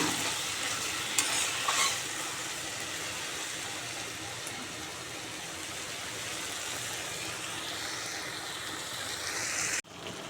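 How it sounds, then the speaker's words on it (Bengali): Chicken pieces sizzle as they fry in a pan and get stirred, with a steady hiss broken by a couple of brief utensil scrapes and knocks. The sound cuts out briefly near the end. "মাংসটা ভালো করে নেড়ে দেব।"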